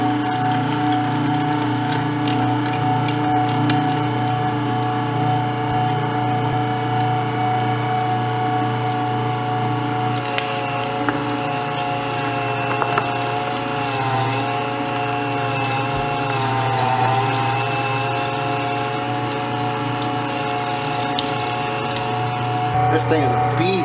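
A meat grinder fitted with a 3/8-inch (10 mm) plate runs steadily while grinding venison, coarse then fine, in a home deer-processing setup, a continuous motor drone with a slightly wavering pitch throughout.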